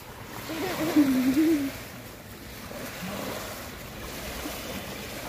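Sea waves at a beach wash in a steady, moderate surf wash with splashing, heard close by under intermittent voices talking.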